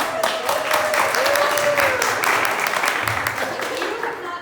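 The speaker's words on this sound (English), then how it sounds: "Can we give them a round of applause?" An indoor audience at a kick-off party claps in dense, continuous applause that holds steady throughout, with a voice speaking over it.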